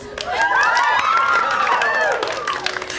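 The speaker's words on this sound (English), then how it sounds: "Listen to the applause." Theater audience applauding at a stage show, steady dense clapping mixed with cheering and shouting voices that fill the room throughout, loud and sustained.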